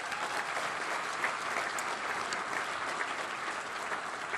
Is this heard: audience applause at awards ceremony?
yes